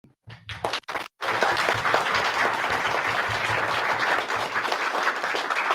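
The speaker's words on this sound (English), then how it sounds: "let's give a big Rotary round of applause, a Rotary applause for ourselves" A Rotary club meeting audience bursts into applause after a few scattered early claps, then settles into a dense, sustained round of clapping that carries evenly to the end with no talk over it.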